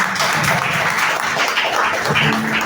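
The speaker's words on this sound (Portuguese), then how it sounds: "Vamos receber a serva de Deus com palmas." A dense, steady wash of applause from a church congregation fills the whole stretch, loud and continuous without pauses.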